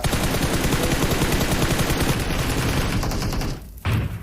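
Dense, continuous gunfire aimed at the player in a video game. A heavy, sustained barrage breaks off briefly near the end, then resumes.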